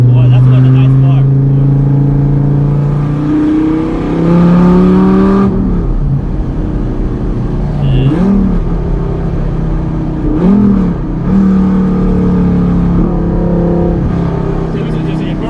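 A Dodge Viper with a built motor revs repeatedly, its deep exhaust note rising and falling smoothly, loud and close inside the cabin, while people talk over it.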